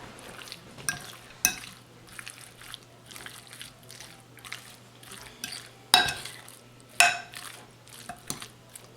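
Seasoned chicken thighs are tossed by hand in a bowl with onion powder and salt, giving soft wet squelching and stirring with a few sharper clinks against the bowl, close and fairly quiet.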